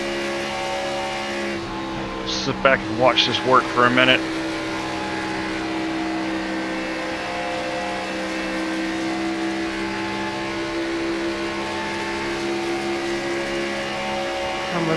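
A No. 9 race car at a Kansas track, its engine droning steadily and close up through the gearbox-mounted camera, with a strong sustained tone throughout and a short burst of voice over it near the start.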